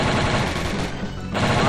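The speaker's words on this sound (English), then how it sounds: "This is actually a really good gun. I never used the Uzi last time." Rapid automatic Uzi fire in a shooting video game, a loud sustained burst that briefly dips midway and then resumes, dense and close.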